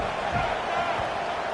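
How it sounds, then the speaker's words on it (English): A diffuse roar rises from a stadium crowd in the NCAA 26 college football video game during a red zone defensive stand, a steady moderate wash of noise that sits beneath a commentator's voice. "This crowd is trying to inspire this defense to make a big red zone stop."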